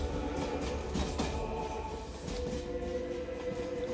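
Inside a moving train, a steady low rumble with rhythmic rail clatter and faint tonal hum rolls on continuously, fairly quiet and without voices.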